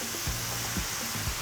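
Rice vermicelli and green mustard greens stir-fry in a wok with a steady loud sizzle, broken by a few low scraping stirs of the spatula; no one speaks.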